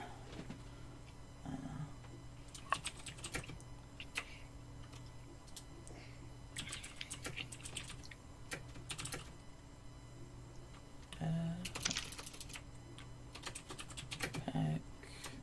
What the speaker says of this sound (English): Except for now, because I'm typing up my tweet.